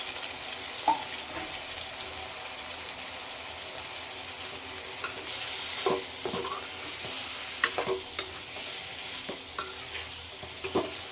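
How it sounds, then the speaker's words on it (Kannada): Tomatoes and onions frying in oil in a pan for South Indian tomato chutney, a steady close sizzle with scattered clicks and scrapes of stirring throughout. "ನೋಡಿ ಈರುಳ್ಳಿ ಫ್ರೈ ಆಗಿದೆ ಚೆನ್ನಾಗಿ. ಇವಾಗ ಟೊಮೆಟೊ ಹಾಕ್ತೀನಿ."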